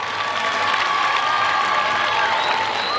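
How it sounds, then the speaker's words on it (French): An audience applauds journalists at the inauguration of YMCA solar street lighting in Matonge, Kinshasa: dense, steady clapping from a sizable crowd, loud and sustained throughout with no speech over it. "Applaudissez les journalistes, s'il vous plaît."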